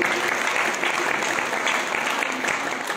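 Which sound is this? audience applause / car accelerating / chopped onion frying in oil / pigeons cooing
audience applause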